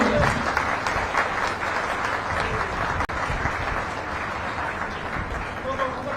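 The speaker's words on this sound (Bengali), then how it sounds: "খুব জোরে হাততালি চাই।" An audience bursts into sustained applause as a woman is called up to a stage at a public event, a dense wash of clapping with talk mixed in.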